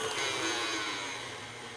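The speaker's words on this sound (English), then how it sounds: "The mixer's back on." An electric mixer whirs steadily while mixing s'mores cookie batter, a close continuous motor drone that eases off slightly toward the end.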